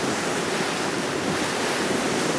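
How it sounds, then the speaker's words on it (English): A tour boat sailing up the East River past Lower Manhattan and Brooklyn, with steady broadband water wash and wind buffeting the microphone throughout, no voices. "Should be sailing up the East River now."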